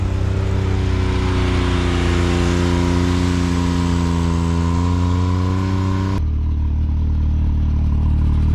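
A loud Can-Am X3 off-road vehicle engine drones steadily, its pitch wavering as it revs, then cuts abruptly to a lower, quieter rumble near the end.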